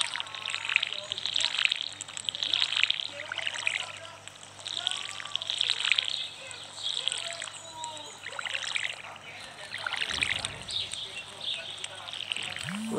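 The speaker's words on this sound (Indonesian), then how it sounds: "Kita siram-siram dulu" Crops being watered with a watering can in the farming game Stardew Valley: a series of short splashing pours repeat at a steady pace, soft and fairly faint, with a low hum underneath.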